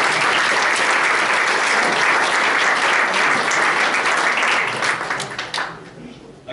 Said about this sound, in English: I should say, an applause for both Barb and her partner, who did a great job.